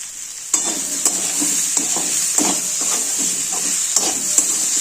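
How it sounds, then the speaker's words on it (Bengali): Turmeric fries in hot oil with a loud, bright, continuous sizzle, broken by regular scraping strokes of a spoon stirring the pan close by. "এটা এবার এর ভিতরে দিয়ে দেবো এই হলুদটা"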